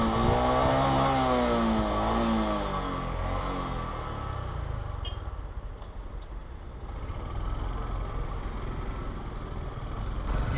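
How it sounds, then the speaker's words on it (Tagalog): A motorcycle engine is kick-started in Manila and revs up with a rising, wavering drone, then settles into a rough, steady running rumble close by. "Pinadyakan ko yung motor para para mabuhay ulit"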